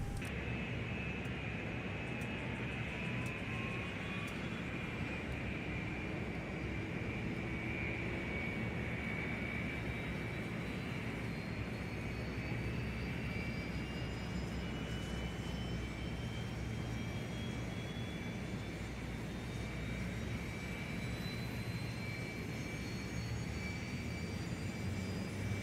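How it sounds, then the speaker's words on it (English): Auxiliary power unit of a ToLiss Airbus A321 spooling up in X-Plane 11, a steady airy jet whine with slowly rising tones over constant broadband rush, alone and continuous. "Let the APU start spooling up."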